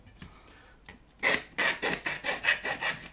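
A step drill bit deburrs a freshly drilled hole in the metal chassis of a Keritech DD-12 amplifier, making a short series of close, rhythmic rasping strokes, about six in quick succession, with no talking.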